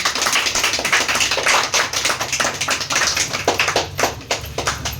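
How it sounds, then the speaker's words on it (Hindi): An audience claps at the opening of the third Gargi skill training centre in Khagaria, a dense and fairly loud burst of many hands that keeps going without a pause and has no talk over it. "तालियां बजनी चाहिए"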